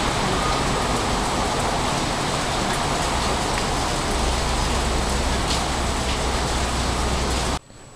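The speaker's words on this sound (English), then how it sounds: "Now it's begun to rain ever so slightly." Dense, steady hiss of light rain falling outdoors after wind and thunder, loud and broadband for most of the stretch before cutting off abruptly near the end.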